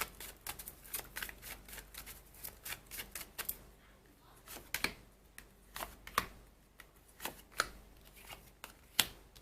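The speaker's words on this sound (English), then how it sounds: "I want to pull 3 more cards for you" A tarot deck is shuffled close by in quick riffling bursts of snapping card edges, followed by slower, separate flicks as individual cards are drawn and laid down.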